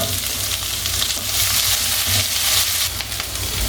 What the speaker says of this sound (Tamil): வெங்காயம், வெள்ளைப்பூண்டு, பச்சை மிளகாய் இதெல்லாம் போட்டு நல்லா வதக்குங்க